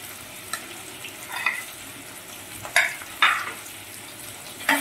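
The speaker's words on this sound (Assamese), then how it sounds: "আলুখিনি অলপ তেলত দিম" Potatoes go into a little oil to fry, giving a faint steady sizzle with a few brief stirring scrapes and clinks of a utensil against the pan, no voices.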